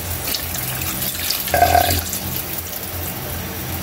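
Water is poured into a pot of carabao meat soup (Visayan nilat-an), a brief splashing pour in the middle over a low kitchen background, with a short spoken word.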